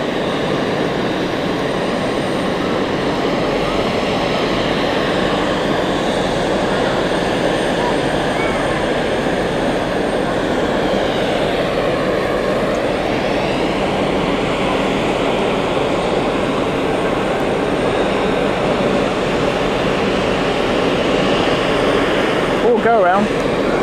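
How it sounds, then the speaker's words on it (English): An aircraft taking off at Zurich Airport, heard from an observation deck as a loud, sustained engine roar that holds steady throughout, with a faint whine rising and falling partway through. "It's waiting because we've got aircraft taking off."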